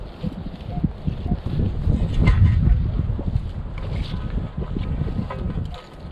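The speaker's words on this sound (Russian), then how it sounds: "Ветер, блин, шумит." Wind buffets the microphone outdoors during metal detecting at a fair site, a low, blustery rumble that swells and eases over several seconds without speech.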